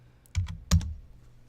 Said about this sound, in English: if I know the name of it, I can just type in Fresno